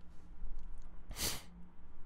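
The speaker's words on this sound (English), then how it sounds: "You just can't stop sneezing." A single sharp allergy sneeze bursts out close to the microphone, brief and loud against quiet background breathing.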